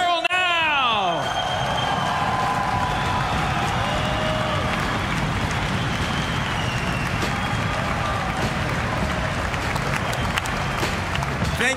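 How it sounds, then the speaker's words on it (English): A large crowd at a BMX finals competition in Tallinn, Estonia, breaks into sustained loud applause and cheering for a rider, a dense continuous roar of clapping and whoops, with a brief announcer's voice at the very start. "You bring a big-ass band of applause for Darryl now"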